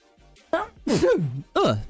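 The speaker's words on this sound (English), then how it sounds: "sorry for the sneezing" Several sneezes burst out in quick succession, close and loud, each a sharp explosive breath with a voiced tail.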